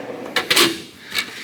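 A metal tool box drawer slides and clunks shut in a workshop, a few short knocks and scrapes, close and fairly faint.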